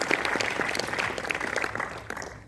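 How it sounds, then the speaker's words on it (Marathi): An audience claps together at a live Marathi song performance. The applause is a lively patter of many hands that gradually thins and fades toward the end. "टाळ्या वाजवूया"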